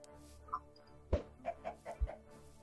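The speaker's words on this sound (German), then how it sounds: "Ein Huhn." A chicken in Minecraft clucking softly, a few short, faint game clucks and bursts scattered over a quiet background.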